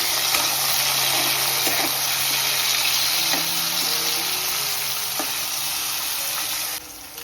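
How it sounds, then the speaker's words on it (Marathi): Tomatoes sauté in hot oil with a continuous, fairly loud broadband sizzle and a few faint stirring knocks, heard close up without talk. "चला आता आपण टॅमॅटो टाकून घेऊ एकदम असं तेलावर परतून घेऊ"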